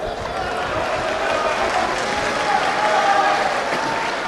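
A large crowd at an Imran Khan political rally roars and chants in a continuous, fairly loud wash of voices that holds steady throughout without a break.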